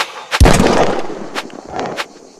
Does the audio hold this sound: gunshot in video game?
yes